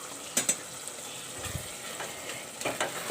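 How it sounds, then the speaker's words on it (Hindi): Mashed dal frying in a pan on high heat gives a steady sizzle, with a few sharp scrapes and clinks of a spoon stirring against the pot. "अब हम इसे तेज़ आंच पे फ्राई करेंगे।"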